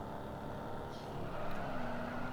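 A 1969 Chevrolet Corvette Stingray with a 427 engine in the Real Racing 3 video game drifts at high speed, its engine a steady loud roar with a rising whine.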